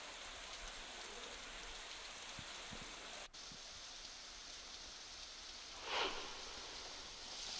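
Continuous heavy monsoon rain in Nandurbar, Maharashtra hisses as a steady, dense wash of rainfall hitting surfaces, with no voices over it.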